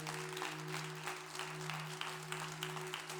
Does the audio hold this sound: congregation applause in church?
yes